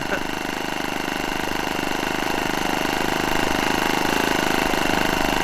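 Small glow engine of a Flair Magnatilla RC model plane running steadily at idle, a constant buzzing drone that stays close and even throughout with no talk.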